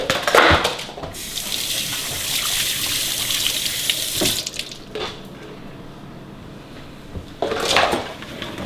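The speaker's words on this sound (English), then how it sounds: "I'm going to quickly wash my hands real quick." Tap water runs steadily into a kitchen sink during hand washing while a burger is being made, with louder splashing bursts at the start and end and no talking.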